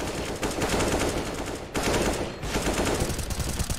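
Rapid automatic gunfire from Counter-Strike: Global Offensive, dense bursts of sharp shots rattling loudly almost continuously, broken by a brief lull near the middle before firing resumes.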